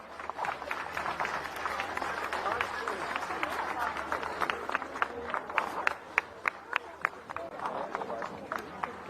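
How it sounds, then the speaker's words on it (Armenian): A crowd at a mayoral election rally in Gyumri for candidate Karen Simonyan claps in rhythmic unison, with sharp regular beats building in strength over a murmur of voices and an amplified announcer. "Ծափահարություններով"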